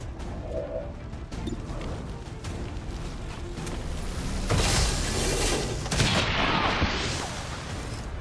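Soldiers in XCOM 2: War of the Chosen open fire on enemies, producing a sustained loud barrage of shots mixed with crashing impacts that swells toward the middle and then eases.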